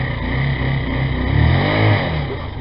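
A Lexmoto Arrow 125cc motorcycle engine runs loud and close, idling with a steady mechanical rumble that rises into a brief rev around the middle before settling back.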